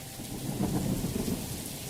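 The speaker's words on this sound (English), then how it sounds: "Then the sky opens up and begins dumping rain." A thunderstorm breaks over an outdoor track meet with heavy rain pouring down, heard as a dense steady hiss of rainfall under a low rumble of thunder that swells briefly in the middle, with no voices.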